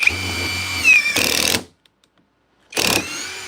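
A power drill drives 3.5-inch deck screws with two loud, close whirring bursts that stop abruptly, a second of silence between them, and no talk.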